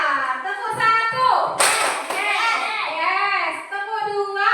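In a primary school classroom, children play a chanted clapping game, their voices ringing out with a sharp burst of clapping in the middle and lighter hand taps around it.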